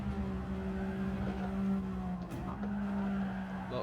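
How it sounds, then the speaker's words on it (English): Radical SR3 race car in Gran Turismo 7 on the Dragon Trail Gardens track, its engine droning steadily while the tires slide and skid, loud and continuous. "Lots of slide on the car."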